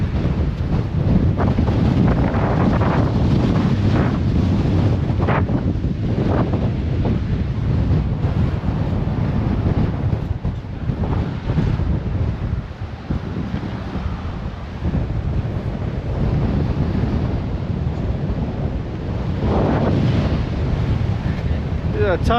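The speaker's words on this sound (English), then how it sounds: "It's getting windy." Strong wind buffets the microphone outdoors, a steady loud rumbling roar that gusts and eases throughout, with a person speaking now and then beneath it.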